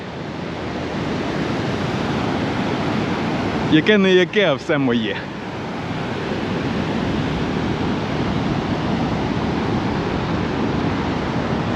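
Sea surf on a beach in Da Nang, Vietnam, a steady broad wash of waves with wind buffeting the microphone, and a voice speaking briefly over it.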